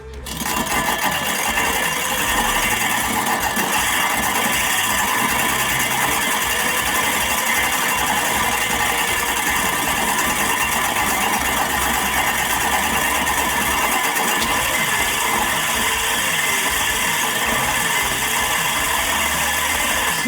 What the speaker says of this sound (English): we're gonna start painting that compound onto the reel as we rotate the drill in reverse.